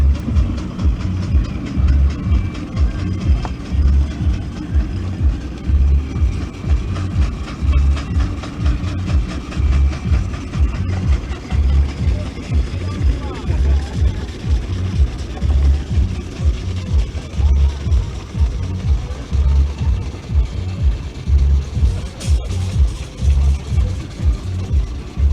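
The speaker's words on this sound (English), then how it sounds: "Just coming up in front of the publisher box is a Burrell road loco JC." A Burrell 4-inch scale road locomotive steam engine runs at a vintage rally, its steady rhythmic chuffing and mechanical clatter continuous and fairly close throughout, with faint crowd ambience behind.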